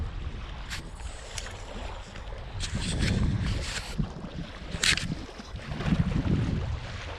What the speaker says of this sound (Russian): Днем поднялся ветер.